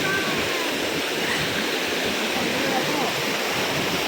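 Rushing water from a stream flowing over large rocks, a steady broadband wash that stays loud and continuous, close by, with no talk over it.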